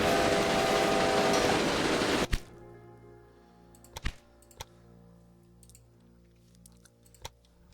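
Train running in the Railway Empire video game: a loud, dense rolling rumble fills the first two seconds, then cuts to a quiet background with a few sharp clicks.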